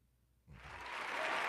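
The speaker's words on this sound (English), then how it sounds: "Round of applause." Applause from a podcast audience bursts in after a brief quiet moment and builds into steady, dense clapping that grows slightly louder toward the end.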